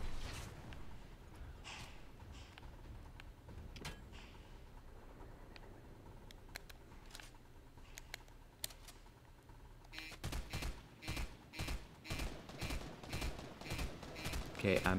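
Gunshots in the Mando's Bounty video game, scattered single cracks at first, then a quicker run of loud, evenly spaced shots near the end, with a voice talking over parts of it.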